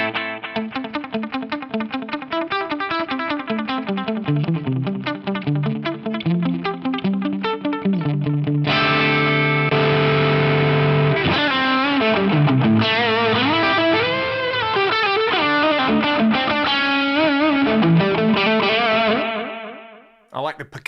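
Clean-toned electric guitar through a Fractal VP4 delay with plenty of feedback, playing percussive picked notes that smear into repeating echoes, growing thicker and brighter midway, then cutting off abruptly near the end.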